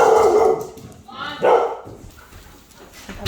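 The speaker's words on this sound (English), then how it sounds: "My kids just returned from work, so the dogs went nuts." Several household dogs bark loudly and excitedly indoors in a few close bursts, working themselves up as people arrive home.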